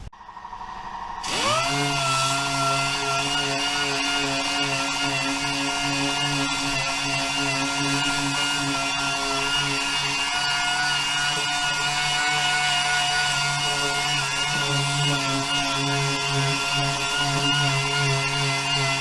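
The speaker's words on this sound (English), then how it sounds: "get the DA with 80 grit, start sanding" A dual-action sander with 80-grit paper starts up and runs steadily and loudly for the whole stretch, sanding black paint from a car, a constant whirring grind with no talking.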